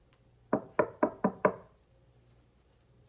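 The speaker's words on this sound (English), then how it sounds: "there's a small knock on the door" Five quick knocks on a door come close and clear in a brisk, slightly uneven run, with a soft room hush after and no voices.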